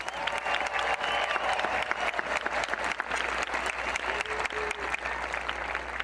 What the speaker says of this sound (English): let's give one more big round of applause to our Santa Fe High School band and Santa Fe High School choir.